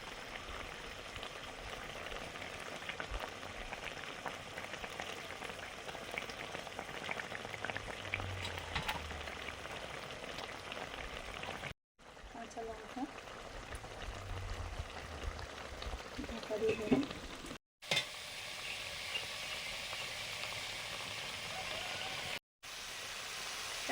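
Fish sizzles steadily in hot oil in a pan for Bengali fish curry, a dense continuous frying crackle with a few brief breaks and stirring.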